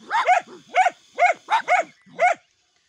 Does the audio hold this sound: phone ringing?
no